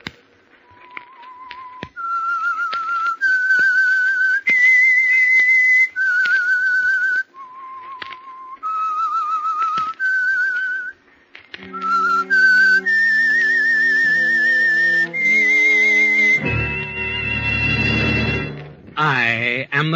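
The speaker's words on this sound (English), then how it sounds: "That whistle is your signal," A lone whistler carries a slow, wavering theme melody, clear and close, with held notes stepping up and down, then gives way to an orchestral swell of strings and brass.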